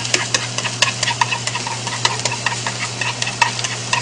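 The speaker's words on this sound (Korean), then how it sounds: "자, 마늘 살짝 볶고." Garlic sizzles gently in a pan for a squid stir-fry udon, a continuous close crackle broken by light rhythmic clicks and scrapes of stirring, with no one speaking.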